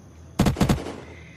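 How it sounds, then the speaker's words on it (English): Gunfire in the video game Unturned during a sniper battle: a quick burst of three or four sharp shots close together, fading into a short echo tail. "Those gunshots?"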